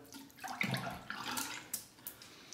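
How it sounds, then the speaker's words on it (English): A wet shaving brush shaken to throw off water before face lathering, a few quiet splashing flicks and drips, close and faint. "I'm going to shake out the bulk of the water."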